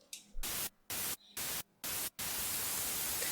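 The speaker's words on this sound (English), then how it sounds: "I use just a white noise by using 3x oscillator to fill up the high frequency of the lead layer" Raw white noise from FL Studio's 3x Osc synthesizer, used as a high-frequency layer for a progressive house lead, hisses loud and dry in several chopped rhythmic bursts before holding as a steady wash, with no effects and no voices.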